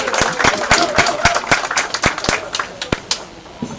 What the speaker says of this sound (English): Give them a round of applause once again